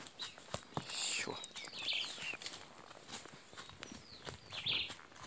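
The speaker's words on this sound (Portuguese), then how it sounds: "Ó os passarinhos gritando." Birds in the woods give sharp, bright chirps and calls in several bursts, close by and fairly clear, over rustling steps and faint low voices.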